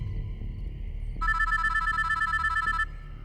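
A telephone bell rings in one loud, steady burst of about a second and a half, standing alone over a low background hum.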